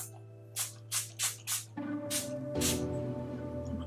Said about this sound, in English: so I have their matte finishing setting spray. It's so cute and so tiny. We're gonna spray.